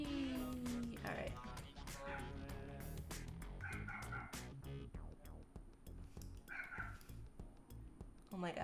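A pet dog close by, barking and yipping in short bursts with whimpering between them, mixed under a person talking over it.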